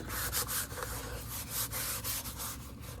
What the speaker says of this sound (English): And then we're going to roll it and rub.